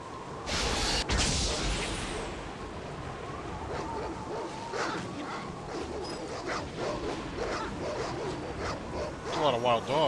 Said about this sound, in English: There's a lot of wild dogs.